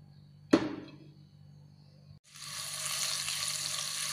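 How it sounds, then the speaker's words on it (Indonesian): Garlic and shallots hit hot oil in a pan with a sharp initial crackle, then after a short lull a steady broad sizzle builds and holds, close and fairly loud. "Panaskan minyak, kita mulai menumis si bawang putih, bawang merah, baru nanti bawang bombaynya ya guys"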